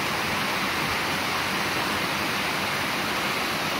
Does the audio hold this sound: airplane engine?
no